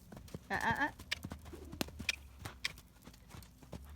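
A gaited horse canters close by, its hoofbeats landing as irregular thuds and clops, faint and sparse, with a brief voice call early on and birds cooing in the background.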